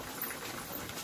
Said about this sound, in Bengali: টকবক টকবক করে ফুটছে, টকবক টকবক করে।